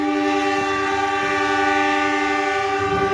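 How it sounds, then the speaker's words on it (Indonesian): A local train on the Cibatu to Bandung line sounds its horn as it starts moving: a sustained, loud tonal blast that holds steady over the low rumble of the carriages. "kereta lokal kembali berjalan"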